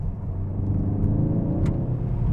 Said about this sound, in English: we're doing some reasonable speed down here, and the road is a bit bumpy on the sides